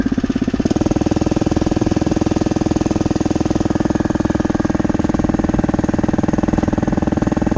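Motorized trike engine running steadily at close range, a loud, fast, even putter with a rough knocking pulse throughout, geared high, alone without voices.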